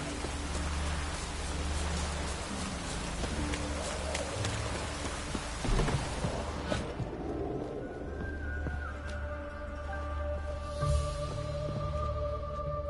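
Steady rain pours down in The Witcher 3: Wild Hunt, a dense hiss of drops on surfaces that carries on throughout with no talking, while a few faint tonal ambient sounds drift in during the later part.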